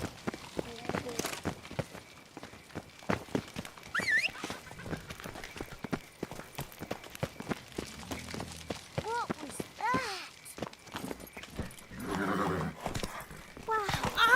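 Roach, the horse in The Witcher 3, whinnies and snorts among scattered hoof clatter and game noise, with short neighs standing out near the middle and end while a voice speaks intermittently.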